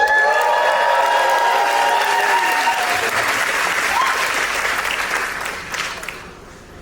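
An audience at a memorial event for a dance festival figure cheers and applauds in a dense, sustained wash of clapping that slowly fades out toward the end.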